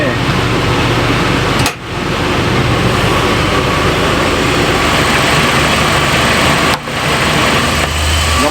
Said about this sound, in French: vous entendez ce ralenti instable.